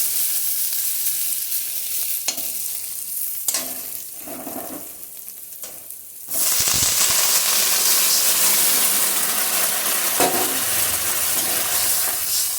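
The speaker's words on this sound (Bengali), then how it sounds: "এই পর্যায়ে এখন দিয়ে দেব জলটা" Water poured into a hot pan of taro frying with masala for a prawn curry, the quiet stirring giving way to a sudden loud, steady sizzle and hiss of steam.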